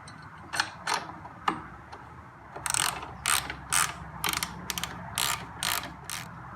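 A ratchet wrench tightens the bolt on the right-side front arm of a Hepco & Becker C-Bow motorcycle pannier system, producing loud, rapid mechanical clicking in repeated bursts with no voice over it.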